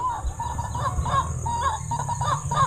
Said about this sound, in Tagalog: May ganun palang klase ng tunog ng ibon.